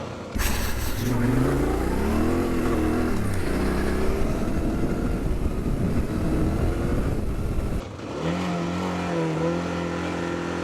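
A Honda XR650L retro rally build rides off road, its single-cylinder engine droning loudly and close with rising and falling revs as it shifts through gears, a brief dip near the end, and no talk.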